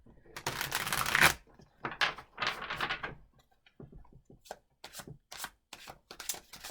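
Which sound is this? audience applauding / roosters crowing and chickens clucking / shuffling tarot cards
shuffling tarot cards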